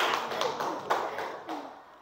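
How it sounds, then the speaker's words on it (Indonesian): A class of children claps hands together in a short, loose burst of overlapping claps in a room, fading over about two seconds, with faint voices mixed in. "Oke, tepuk tangan semuanya."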